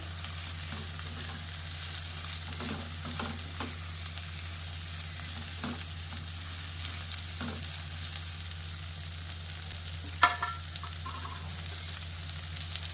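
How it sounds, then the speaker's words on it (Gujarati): Chopped ivy gourd (tindora) goes into a hot pan for a Gujarati sabzi and is stirred, giving a constant soft sizzle with occasional scrapes and clinks of the spoon, one sharper knock near the end; no talking. "હવે આપણે તેની અંદર સમારેલા ટિંડોળા ઉમેરી દઈશું। મિક્સ કરી લઈએ।"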